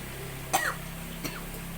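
A single sharp cough, followed by a softer second cough about half a second later, close to the mic over a quiet background hum.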